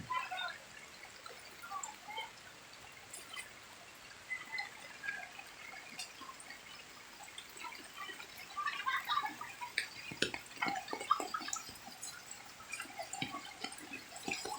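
Floodwater trickles and drips faintly nearby, a quiet, uneven stream of small splashes that grows a little busier toward the end, with no talking over it.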